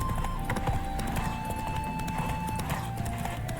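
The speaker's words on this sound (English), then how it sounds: "Spooking my horse." In The Witcher 3, a spooked horse gives a whinny over the steady clip-clop of its hooves, heard close and moderately loud with game ambience behind it.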